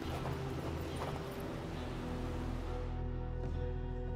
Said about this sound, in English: Lucky we found these horses.